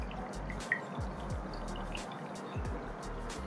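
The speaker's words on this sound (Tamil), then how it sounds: "உங்களுக்கு வந்து இதனாலேயே வந்து தண்ணி இழுத்து வெளியே வந்துடும்." Water trickling and dripping steadily from the outlet of a homemade hang-on aquarium filter, a soft continuous flow with faint drip accents and low rumbling underneath, no voices.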